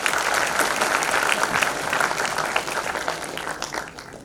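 A crowd at a convocation ceremony applauds an honoured guest with loud, dense clapping that stays full and then tapers off toward the end.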